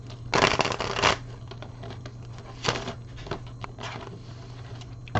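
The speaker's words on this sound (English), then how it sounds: "the cards are not wanting to shuffle today" A deck of tarot cards being shuffled close by, with a strong riffling burst near the start, then shorter, softer shuffles and taps spread over the rest.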